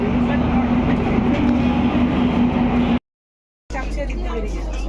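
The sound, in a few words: passenger train departing New Jalpaiguri station platform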